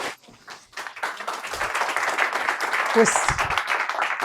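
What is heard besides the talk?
applause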